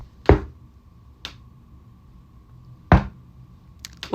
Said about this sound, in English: it was like a knock where it's like, I'm knocking like